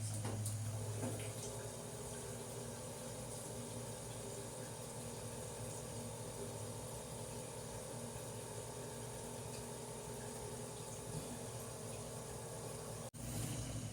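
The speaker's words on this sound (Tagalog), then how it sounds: "Tapos, magpakulo tayo ng tubig." Water pouring steadily into a cooking pot set to boil for chicken adobo, a continuous close, soft rushing fill lasting several seconds before a brief knock.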